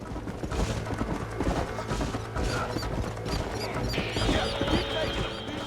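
Horse hooves clip-clopping in the Western video game Red Dead Redemption, a steady trotting rhythm mixed with clinking tack and game ambience, moderately loud with no talking.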